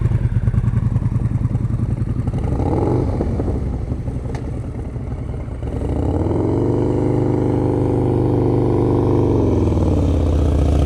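Motorcycles ride through a private group riding lesson, engines droning steadily and then shifting pitch as a bike accelerates nearby, loud and continuous with no voices.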